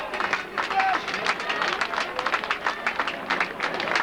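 A carnival crowd applauds the queen's float during a mid-Lent parade, scattered irregular clapping at moderate distance under a voice over a loudspeaker.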